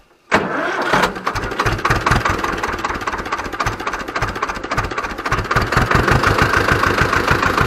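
An Ursus C 325 tractor engine cranks briefly and catches, then settles into a loud, rapid diesel chugging idle, close by and unbroken, with no talk over it.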